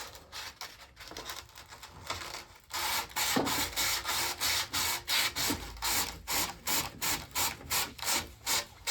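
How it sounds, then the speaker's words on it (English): Sandpaper rubbed back and forth over a pole's surface to rough it up, a steady run of rhythmic, close scratching strokes that grow regular and insistent after a slower, uneven start. "you notice how I'm rubbing this way, again, to kind of sort of create some ribs also"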